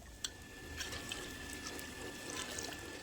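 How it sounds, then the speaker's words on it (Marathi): Hot water poured into mutton curry gravy cooking on a clay stove, a steady, full splashing pour that runs unbroken for a few seconds, close and fairly loud, with no voices. "आता यामध्ये आपल्याला गरम पाणी घालायचंय"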